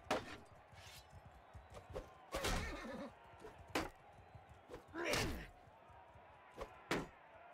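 Horses in the Realm of Thrones video game: several sharp neighs and whinnies, with clopping hooves and hard thuds scattered between them, close and loud in bursts against a quiet background.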